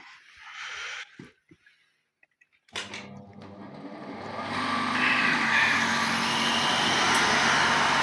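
A John Deere 2264 combine's engine cranks after a few quiet clicks and catches, then settles into a loud, steady close-up running roar that holds to the end.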